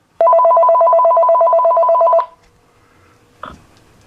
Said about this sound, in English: if I dial this number on my mobile phone, or my mobile phone, cell phone, then it should ring through.